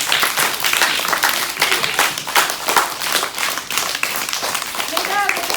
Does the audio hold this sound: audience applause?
yes